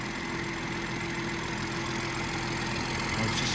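A BMW 440i Gran Coupe's twin-turbo straight-six petrol engine idles steadily with an even, smooth low hum, close by and alone throughout.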